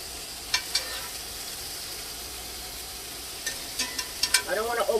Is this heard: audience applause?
no